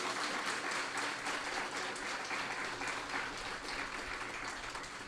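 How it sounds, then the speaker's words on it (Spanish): A church congregation applauds steadily, a thick, even wash of many hands clapping together, sustained throughout at moderate distance. "Dele un aplauso a ese Jesús"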